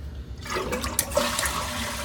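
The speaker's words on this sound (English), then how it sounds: "So, what we're gonna do is we're gonna flush." A toilet flushes nearby after a new fill valve was fitted, a steady rush of water that swells and churns for about two seconds without any talk.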